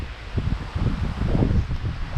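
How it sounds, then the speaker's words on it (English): Wind gusts across an open cemetery on a cool, cloudy, overcast day, a steady low rumble with buffeting against the microphone and faint rustling, no voices. "It's very windy today."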